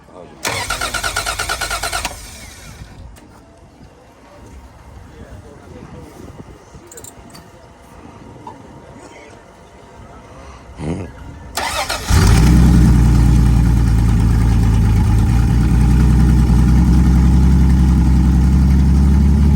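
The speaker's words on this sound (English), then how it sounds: "Not too often you hear a built 6-cylinder" A quiet stretch gives way to a built 170 six-cylinder engine in a Valiant with a header, big exhaust pipe and stock cam cranking and catching, then running loud and steady with a deep, throaty rumble close by.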